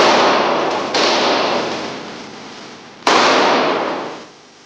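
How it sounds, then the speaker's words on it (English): Two loud pistol shots are fired during SAS training, each a sharp crack followed by a long ringing decay, the second about two seconds after the first. "The first thing a soldier must learn is how to draw, hold, and fire his pistol quickly and accurately."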